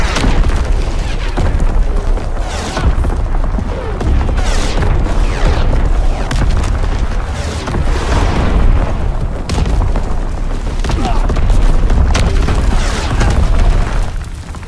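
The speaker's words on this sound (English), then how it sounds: "Incoming enemy artillery!" Artillery explosions in the Call of Duty WW2 video game, loud repeated booms and bursts rolling over one another in a dense, continuous barrage of battlefield noise.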